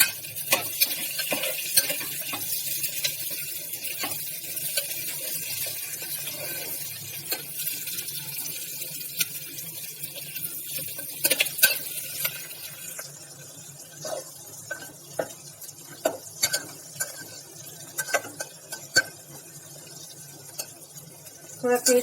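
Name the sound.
onions frying with cumin and asafoetida, being stirred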